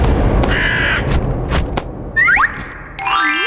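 Cartoon-style crow caws, a couple of harsh calls over a busy, loud background of bouncy comic sound effects and music.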